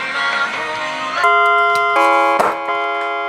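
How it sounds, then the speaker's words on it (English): A NuTone three-note doorbell chime module rings out three ringing tones one after another, loud and close, each note sustained and overlapping the last. "This is a 3-note chime."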